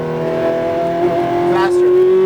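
A Ferrari F430 accelerating on a track at Speed Vegas, its engine note climbing steadily in pitch as it revs under load, loud and close, with an instructor's voice talking over it.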